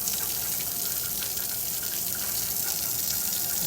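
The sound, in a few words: hot water gushing from drain valve of 1904 Ruud water heater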